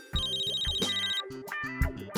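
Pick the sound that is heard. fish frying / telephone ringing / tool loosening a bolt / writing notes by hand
telephone ringing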